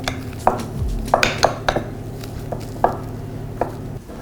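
The back of a spoon spreads Turkish semolina halva inside a cling-film-lined bowl, with a series of sharp, close knocks and light scrapes at an irregular pace over a low background hum.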